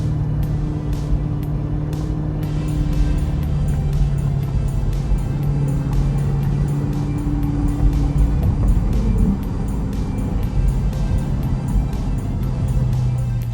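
A C8 Corvette drives across a man-made reservoir dam on the road up Pikes Peak, giving a steady, close engine and road rumble throughout with wind noise and faint repeated ticks.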